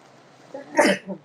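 A single sharp sneeze bursts out close by, a short breathy intake leading into a bright explosive snap, followed by a brief mumbled sound.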